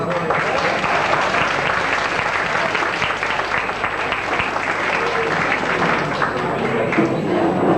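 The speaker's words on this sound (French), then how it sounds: "Donc, on peut les applaudir aussi." Lively audience applause for guests at an evening event before a film screening, a loud and dense burst of clapping that carries on for about eight seconds with some crowd murmur underneath.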